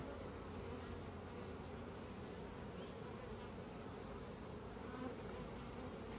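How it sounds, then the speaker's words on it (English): A dense, steady buzz of many honey bees swarming close around a packed hive, continuous and unbroken, with no voices. "They're starting to get kind of packed full of bees."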